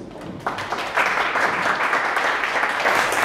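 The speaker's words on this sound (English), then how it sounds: "giving a round of applause to Noble Tonsors" An audience applauds at a morning presentation event, dense clapping swelling from a quiet start into a steady, loud wash that holds to the end, with no talk over it.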